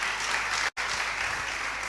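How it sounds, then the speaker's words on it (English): A church congregation claps hands together during a worship service, a short, loud, continuous burst of applause broken by a brief cut. "Clap your hands for Jesus."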